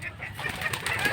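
Pigeons calling and cooing nearby, with soft chirps and fluttering over a steady low background hum.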